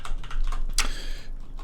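Quick bursts of computer keyboard typing, a short message tapped out at close range, with crisp key clicks and one sharper keystroke midway.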